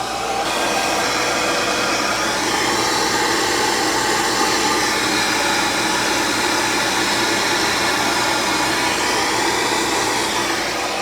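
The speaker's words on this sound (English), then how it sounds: "So we'll turn on the vacuum." A vacuum cleaner motor roars steadily and loudly throughout, a continuous broadband whine with no breaks.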